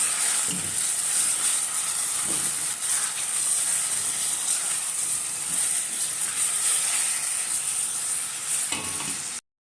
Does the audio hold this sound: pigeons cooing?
no